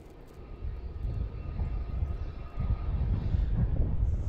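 Boeing 737-800 jet on the runway at Melbourne Airport, a steady low engine roar that swells louder in the second half, heard from a distance with some wind noise.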